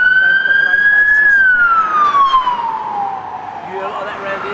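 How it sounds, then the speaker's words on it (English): A police siren in Canning Town, East London, wails in one long sweep that falls in pitch and fades as the vehicle passes, loud over steady street noise. "And you always hear the police sirens around here?"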